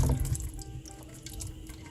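Liquid poured from a container into a serving dish in a home kitchen, a close, steady trickling splash that is strongest at the start and then continues softer and even, with no talking.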